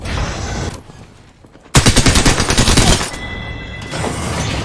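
Rapid automatic gunfire in the battle-royale video game Apex Legends, a loud dense burst of close shots lasting over a second amid game ambience, with no talk.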